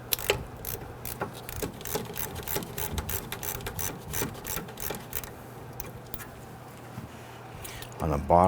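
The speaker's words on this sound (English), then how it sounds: "On the bottom here, we're going to use our gear wrench." A gear wrench works on the 14mm brake caliper slider pin bolts of a 2011-2017 Nissan Quest. The ratchet gives a rapid run of sharp clicks, close and fairly loud, and a voice speaks near the end.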